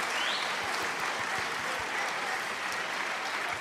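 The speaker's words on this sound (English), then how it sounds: "Let me give you a round of applause." Applause from the audience at a live podcast recording, a steady fairly quiet wash of clapping that holds evenly without any voices over it.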